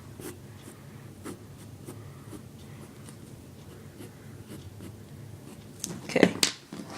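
Pencil strokes on paper for a black and white fireball drawing, a steady close scratching of curved marks that grows louder and busier near the end.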